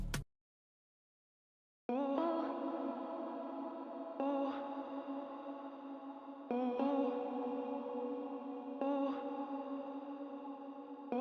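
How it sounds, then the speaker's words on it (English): A processed vocal chop from the AFROBANG pack plays after a brief click, sustained and harmonically rich with a slightly echoing tail, restarting roughly every two seconds in a looping phrase. "we have this vocal chop that we also picked from the AFROBANG pack"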